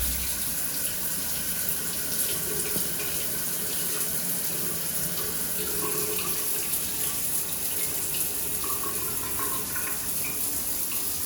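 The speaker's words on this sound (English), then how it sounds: "Go ahead and turn on your shower" A home shower runs steadily after being switched on following a shower head leak fix, water spraying and splashing at a constant even level for the whole stretch with no talking.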